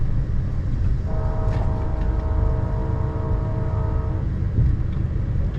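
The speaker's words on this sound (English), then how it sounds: "Oh, and there's a train." A train rumbles by with a steady low roar, and a sustained horn-like tone holds for several seconds in the middle before fading.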